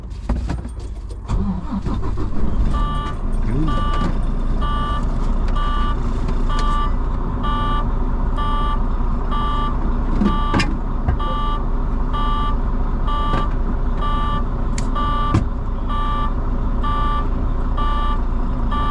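A truck engine starts with a crank and settles into a loud idle, then a steady series of regular reversing beeps repeats throughout over the engine rumble, with a brief spoken word early on.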